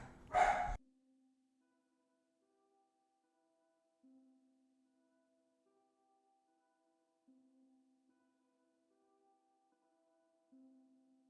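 A single dog bark bursts out loud and close at the start, then only faint, brief traces follow far back in an otherwise quiet room.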